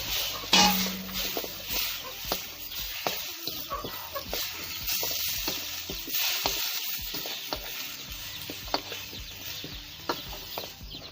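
Soft African traditional vegetables sizzle in a pot of soup while being stirred, with a close frying hiss broken by irregular scraping clicks and knocks of the spoon.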